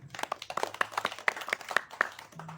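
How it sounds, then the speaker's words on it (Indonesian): Audience clapping at a live cultural talk and dialogue event in Indonesia, a fairly small scattering of distinct hand claps in an uneven rhythm, close and moderately loud, with no talk over it. "Sekali lagi tepuk tangan."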